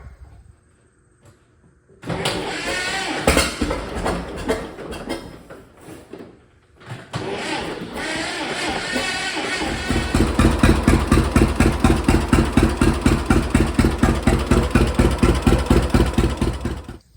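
An old John Deere A tractor engine is cranked over and starts, then settles into a loud, close idle. Its steady two-cylinder putt gets a stronger pulsing beat toward the end, and no one speaks.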